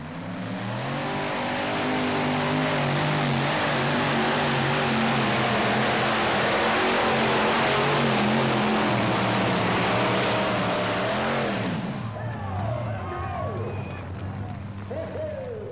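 A pulling tractor roars at full power with very high wheel speed, a loud sustained engine howl with shifting harmonics for about twelve seconds, then cutting off to a quieter rumble with voices.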